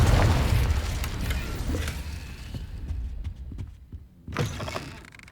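A Confringo explosive spell in Hogwarts Legacy lands with a heavy booming blast at the start that rumbles and fades, followed later by a second sharp burst after a brief lull.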